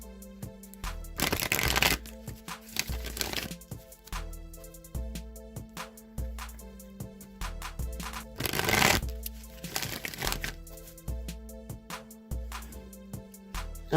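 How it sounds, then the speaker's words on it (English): A deck of oracle cards is shuffled repeatedly, soft riffling bursts and taps in a quiet room with steady background music and no voices. "I'm going to shuffle this deck 3 times"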